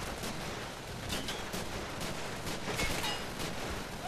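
Machine gun fire in the Call of Duty 3 video game, a dense continuous rattle of bursts with sharper cracks mixed in, steady and fairly loud, no talk.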